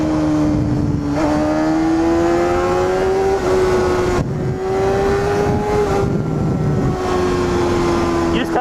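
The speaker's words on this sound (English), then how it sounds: "You need 4 cylinders for this to sound like this." A high-revving four-cylinder Honda CBR250RR motorcycle engine screams steadily, its pitch slowly climbing and briefly dipping, loud and close throughout.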